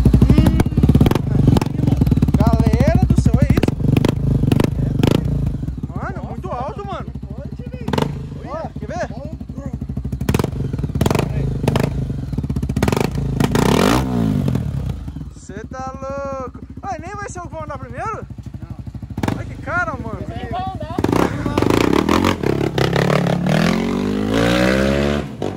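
A Honda XRE 300 motorcycle fitted with a Dore aftermarket exhaust idles loudly and revs in several bursts up close, with popping, while people talk over and between the revs.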